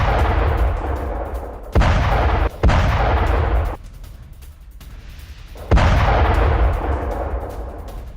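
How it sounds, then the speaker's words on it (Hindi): Loud, sharp blasts and rumbling booms from a drone strike on a tank in the Russia-Ukraine war burst out in several heavy impacts, with a dull roar lingering between them as the tank burns. "बड़े धमाके के बाद आग के शोलों में तब्दील हुआ टैंक।"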